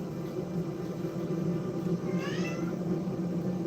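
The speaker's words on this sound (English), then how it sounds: "Kitty's meowing all of a sudden." A house cat gives a single short meow near the middle, fairly close, over a steady low indoor hum with no talking.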